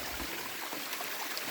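A small mountain creek on Devils Ridge Trail in the Pasayten Wilderness at 4,100 feet flows in a steady, soft, close babble of water, heard alone.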